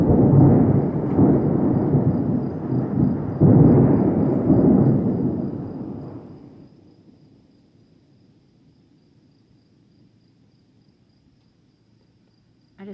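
Thunder from an approaching pop-up storm over a homestead, a long loud rumbling roll that fades out over several seconds, leaving quiet outdoor ambience with a faint insect or cricket hum.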